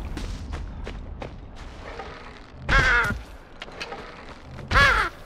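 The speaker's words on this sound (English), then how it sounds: "I've been battling to shoot these birds out of the sky." Harsh crow-like caws burst out twice, a few seconds apart, from birds in a survival video game, loud and close over a low background hum with no talk.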